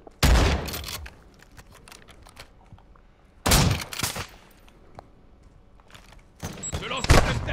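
Gunfire in the Warzone shooter game, sharp loud bursts of rapid shots in three clusters with quieter battle noise between, and a player talking briefly amid the shooting.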